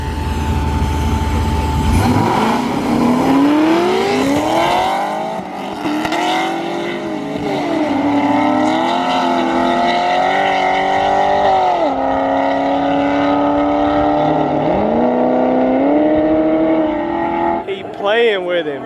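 Silver Corvette engine revving hard during street racing, a loud close roar climbing and falling through gear changes over nearly twenty seconds, with people talking faintly beneath it.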